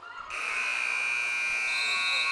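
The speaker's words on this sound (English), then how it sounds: "Brooklyn missed that long three-pointer at the buzzer" Basketball game end-of-quarter buzzer sounds as a loud, sustained electronic tone that starts abruptly and holds steadily, with no talk over it.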